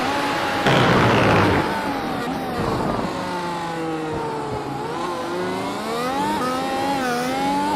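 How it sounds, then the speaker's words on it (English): An onboard race car engine at the Austrian Grand Prix, part of the European Sportsman class in the Majors Series, revs and climbs through the gears with a sharp burst near the start, sounding close and raw. "Just watch his wheel and listen to the engine."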